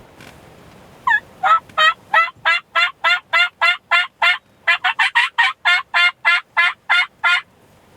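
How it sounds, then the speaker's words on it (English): Wild turkeys gobble across a windy wheat field, a long run of rapid, evenly spaced gobbling calls that sound fairly loud and sustained, without talk. "They're gobbling. They heard it. All the way across that field."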